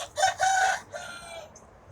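A backyard rooster crows once, close and fairly loud, in a short two-part call that trails off, with no other voices.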